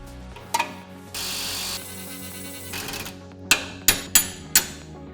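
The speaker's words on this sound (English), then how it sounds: "Remove the top and bottom bolt holding the strut to the knuckle." Metallic work on a car's front suspension as strut bolts come off the knuckle while fitting Fortune Auto 500 coilovers, with a sustained power-tool whir followed by four sharp, close metallic knocks.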